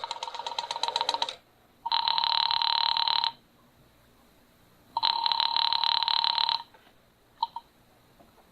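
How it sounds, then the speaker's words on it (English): Telephone ringing after a number is dialed, a radio drama sound effect: a short burst of tones, then two long, loud electronic rings separated by silence, and a brief final chirp. "went to the phone and dialed"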